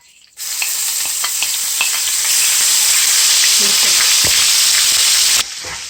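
Garlic and ginger paste hits hot oil in a pan for salmon curry and sizzles loudly and steadily for several seconds, close by, after a sudden start and before an abrupt drop.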